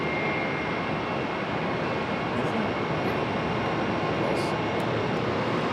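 A UPS cargo plane lands at Charlotte Douglas airport, a broad steady jet roar dominating throughout at fairly close range, with no talk.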